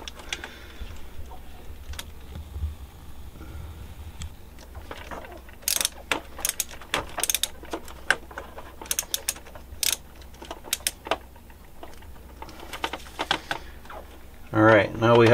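A ratchet snugs bolts on a Gen9 lower link carrier, with quick bursts of close metallic clicking separated by quiet gaps and a few clunks near the end.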